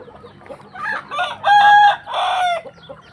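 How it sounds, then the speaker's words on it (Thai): Chickens clucking with a rooster crowing loudly in two long bursts, close by, amid a busy farmyard. "ไก่นมนี่อยู่สามสี่ตัวครับ"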